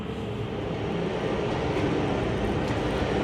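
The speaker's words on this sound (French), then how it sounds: "On va ramener la cible." A motorized target carrier at a shooting range brings a target back, producing a continuous mechanical rumble and whir that stays loud and even throughout.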